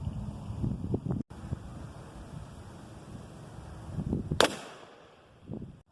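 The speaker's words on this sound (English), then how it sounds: "if you hear a lot of wind in the footage" Gusty wind buffeting the microphone outdoors during shotgun slug shooting, a low rumbling roar that swells and fades, with a sharp crack near the end and a brief dropout.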